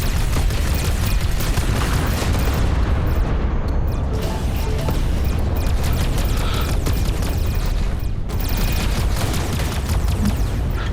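Constant heavy rumbling booms and bursts from rocket explosions in the space shooter EverSpace 2, a loud dense roar lasting throughout with crackling debris and no talking.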